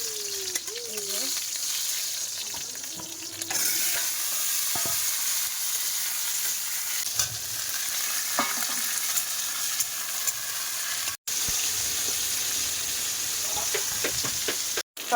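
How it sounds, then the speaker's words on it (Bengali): Pointed gourd (potol) fries in a pan with a loud, steady sizzle and hiss throughout, broken by occasional stirring scrapes, with faint voices in the background. "পটল ভাজা কিন্তু হয়ে গেছে প্রায়।"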